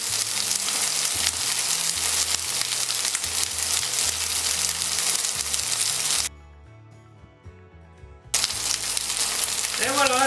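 Chicken bones grill in a hot pan with a loud, continuous sizzle that drops away for about two seconds before bursting back at full strength.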